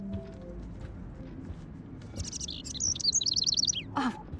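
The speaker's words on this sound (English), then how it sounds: "Can you help me get this bird out of here?" Indoor bird in the Life Is Strange video game chirps in a rapid run of bright, repeated tweets, rising from faint calls into a loud, close burst of song over soft room ambience.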